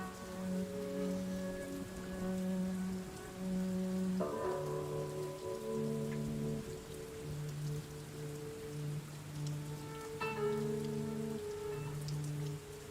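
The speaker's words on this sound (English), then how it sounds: "You enjoy the rain, the subtle sounds." Steady rain patters as ambient sound in a virtual tabletop game, a soft continuous hiss running beneath a gentle, slow melodic tune of sustained notes throughout.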